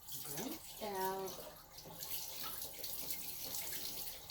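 Tap water running over a paint brush at a sink, a steady splashing rush under someone talking nearby.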